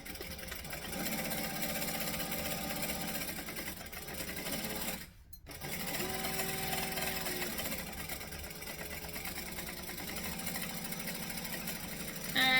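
A sewing machine runs steadily, basting lining fabric around the edges of a garment, with a continuous mechanical hum. There is one brief pause midway before stitching resumes.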